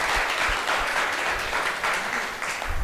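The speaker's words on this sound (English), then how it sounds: "Give yourself a round of applause." Steady applause from a crowd of NASA Space Apps participants fills the whole stretch, dense and continuous clapping with no talk over it.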